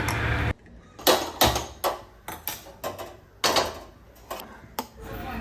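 Thick ground paste scooped and scraped from a grinder jar into a bowl in a home kitchen, a series of sharp clinks and knocks of metal spoon against the vessel, irregular and close, with no talk.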